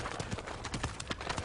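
Horse hooves clip-clop in a quick, steady rhythm, about a dozen sharp, fairly close strikes over a short stretch, with no talking.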